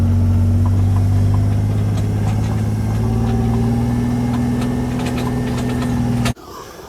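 A utility vehicle (mule) engine idling steadily and fairly loud, with an even low hum and faint knocking vibration, before it cuts off abruptly near the end.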